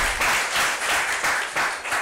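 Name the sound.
audience applause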